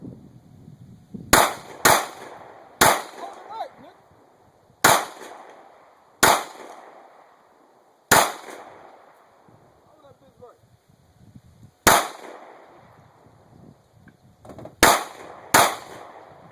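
A Glock 23 pistol fired ten times at uneven intervals, each sharp, loud crack followed by a short decaying echo, with rustling and faint movement between shots.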